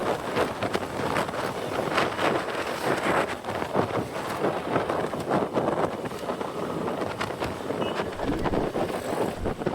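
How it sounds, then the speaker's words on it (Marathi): Strong wind blasts across the microphone during a motorbike holiday ride from Mumbai to Ambavane, a loud, constant buffeting roar with gusty thumps and rumble throughout and no voices. "तुम्हाला जो आवाज येत असेल व्हिडिओमध्ये त्यावर तुम्हाला कळत असेल की विंड ब्लास्ट किती आहे आज"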